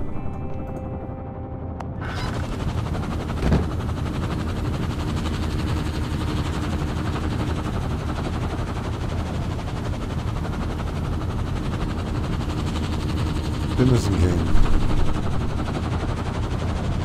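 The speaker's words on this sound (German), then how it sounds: "Da ist der Helikopter." An evacuation helicopter in the video game Firewatch arrives with a loud, continuous rotor chop and engine roar that holds steady throughout and briefly intensifies near the end.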